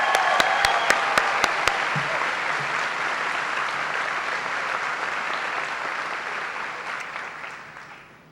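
Sustained crowd applause at a high school graduation ceremony honoring district staff, a few sharp claps at the start swelling into a broad, even wash that fades out at the end.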